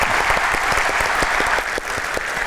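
A studio audience at an open-microphone talk show applauds, with a loud, continuous wash of clapping from many hands and some individual claps standing out clearly in the mix.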